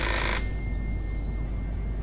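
A telephone rings in the video game Fahrenheit, one short bright ring burst at the start, then a steady hum with a thin high electronic whine.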